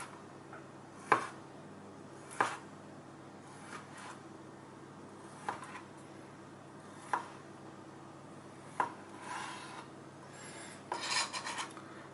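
A kitchen knife slices the end off a piece of ginger root on a cutting board, a handful of sharp, distinct chops spaced a second or more apart, with quiet rasping between them and no talk.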